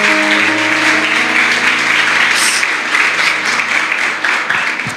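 A church congregation at an anniversary service in Cotia applauds, a loud, steady wash of many hands that goes on throughout, with sustained musical tones underneath.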